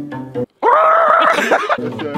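A man imitates a turkey outdoors in a forest, giving one loud, warbling gobble-like vocal burst of about a second, with short bits of talk just before and after.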